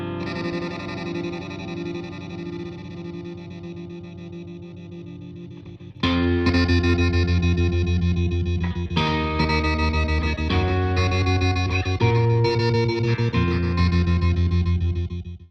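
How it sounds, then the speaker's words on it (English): A guitar runs through the sound-effects delay mode of a BOSS DD-500 stereo delay pedal. A quiet sustained tone is followed by louder distorted, chorus-like chords that repeat and echo in layered, wavering trails before cutting off. "So that's the sound effects delay"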